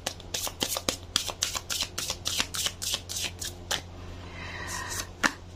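Thin tarot cards shuffled by hand in a rapid series of crisp riffling bursts, close and loud, with a brief pause before a final snap.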